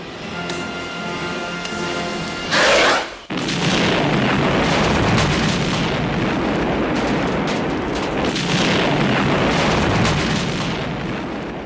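Grenade explosion in the film Aliens: a sharp, loud blast bursts out, followed by a sustained roaring wash of fire and debris that stays loud to the end.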